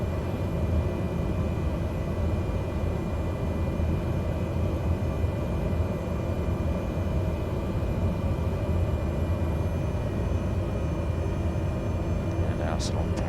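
Cessna Grand Caravan engine taxiing in a flight simulator game: a steady, loud droning rumble that holds constant throughout, with a faint brief click near the end.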